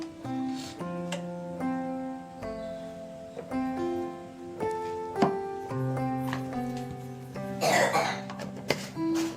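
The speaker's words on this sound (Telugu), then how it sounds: "మా అమ్మాయికి కోల్డ్ అయిపోయింది దగ్గుతా ఉంది" A young girl with a cold gives several short coughs and throat-clearing sounds indoors over a steady melodic music background, scattered across the stretch without speech.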